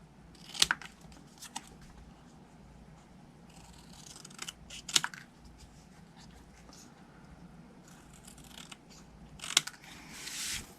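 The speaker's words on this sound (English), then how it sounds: "I'm just going to cut this by hand. I'm going to cut close to it on all 4 sides." Scissors cut a scrap of stamped paper by hand, giving a few sharp, quiet snips spaced several seconds apart over a soft, steady background.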